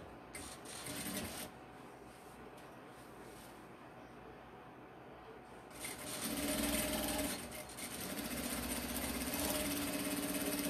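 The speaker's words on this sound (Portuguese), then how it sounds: "Volta na máquina e começa desde o início, tá?" A sewing machine stitches fabric for a hygiene kit, running in close steady bursts with a brief pause between them over a continuous background noise.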